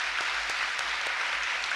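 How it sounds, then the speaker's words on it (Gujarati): A crowd at a devotional aarti and Atmiya Sabha gathering claps together in a thick, continuous burst of applause, steady and fairly loud, with no talking. "આ ગ્રુપ માટે પણ તાળી પાડી દો"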